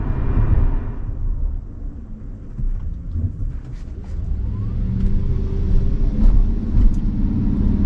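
Tesla electric car on FSD Beta 11.3.6 pulling away slowly from a green light, heard as a steady low cabin and road rumble that swells gently as speed builds, with no talking.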